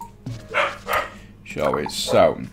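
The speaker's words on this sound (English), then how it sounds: "I do apologise if you can hear the dog barking in the background." A dog barks in the background of a room while a person talks over it, the barks faint and partly masked by the speech.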